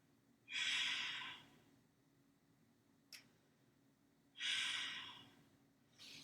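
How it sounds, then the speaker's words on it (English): Two slow, audible breaths during a yoga prayer twist in a beginner-friendly vinyasa flow class, each a soft airy exhale lasting about a second, separated by a quiet pause with one faint tick between them. "And we're breathing."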